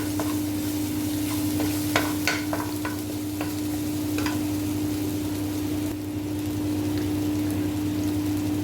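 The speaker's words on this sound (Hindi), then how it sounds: "पैन में थोड़ा सारा ऑयल डालें और इसमें ये लहसुन अदरक का पेस्ट डाल दें।" Garlic paste frying in oil in a pan, a steady low sizzle with a constant hum beneath and a few sharp scraping stirs near the start, close and fairly even throughout.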